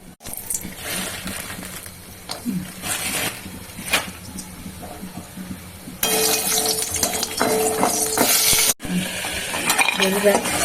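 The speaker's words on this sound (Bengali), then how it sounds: "ভালো তেল দিয়ে আমি কতগুলোকে বড়ি ভেজে নেবো" Lentil dumplings (bori) frying in oil in a pan, sizzling that grows louder partway through, with clinks of a metal utensil and stirring, close up, no talking.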